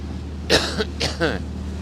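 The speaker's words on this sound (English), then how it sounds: "Excuse me, trying to clear my throat." Three short throaty clearing sounds close to the microphone aboard a yacht during the Sydney Hobart Yacht Race, over a steady low engine hum.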